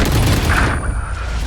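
A single loud boom from an explosion during a Valorant esports match, a close heavy blast whose roar fades over about a second with gunfire-like crackle.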